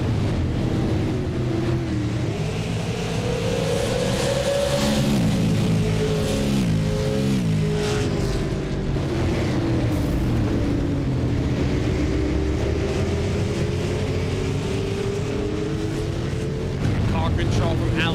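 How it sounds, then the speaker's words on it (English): Continuous roar of racing engines in a racing video game at Five Flags Speedway, with rising and falling pitch as cars pass, plus rushing wind noise, loud throughout. "Let's turn the sounds up. Let's listen to the engines here at the Five Flag Speedway."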